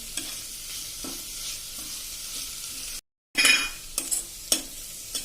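Garlic sautés in hot oil for a Gujarati green pigeon pea totha, a steady soft sizzle broken by a short silence, then louder spoon-scraping stirs and clinks close by.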